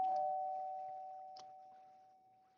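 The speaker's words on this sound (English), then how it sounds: "rings the doorbell" A single electronic doorbell chime in a video game rings out, its steady tone slowly fading away in an otherwise quiet room.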